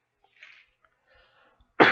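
A person coughs once, loud and close, after choking, following a few faint breaths and throat sounds in near silence.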